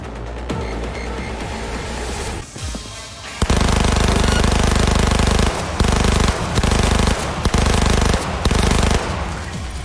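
Rapid bursts of automatic gunfire with ricocheting shots during a boss fight in Cyberpunk 2077 hammer on loud and dense, broken by brief pauses, over a lower game soundscape at the start.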